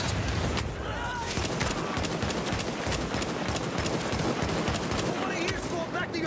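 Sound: machine gun firing in a video game

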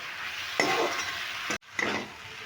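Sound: sautéing spices with potatoes in a pan

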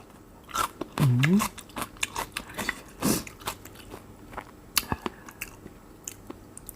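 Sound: chewing fresh vegetables eaten with fermented shrimp

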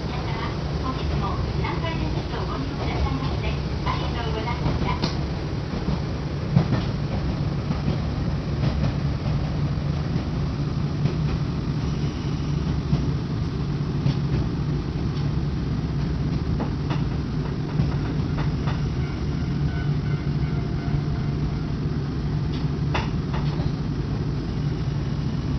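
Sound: Nankai Takashinohama Line train running

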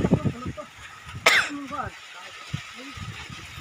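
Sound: cough

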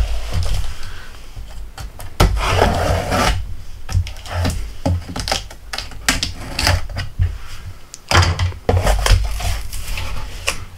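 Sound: opening the Craftsman tool combo kit box

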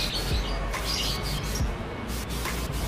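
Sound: canaries chirping in a bird shop

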